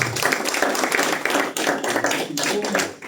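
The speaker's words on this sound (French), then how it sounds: "Des applaudissements pour Lucas Philippou." Applause greets a player introduced at the GP Longoni Next Gen event: a steady crowd of clapping hands, loud and close, lasting the whole stretch with small swells and dips.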